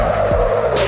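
Car tires squeal continuously as a car drifts in the Assetto Corsa racing simulator, a loud sustained screech over engine drone lasting under a second, with no speech.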